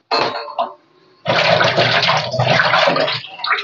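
Whole spices such as bay leaves, cardamom and cinnamon being washed in water before cooking chicken: a short splash, a pause, then a loud continuous rush of running, sloshing water close by.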